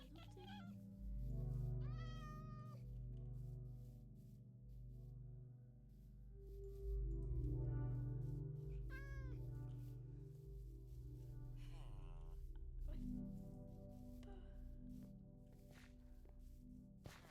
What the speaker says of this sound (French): Oh, oh un autre chat. Mais go l'adopter.